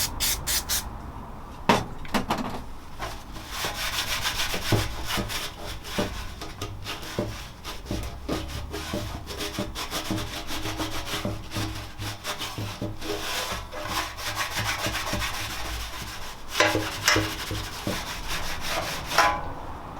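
Old paint being scrubbed off a Honda CB250 fuel tank, with steady close rasping strokes in a quick uneven rhythm that keeps going throughout at a moderate, even level and has no talking over it.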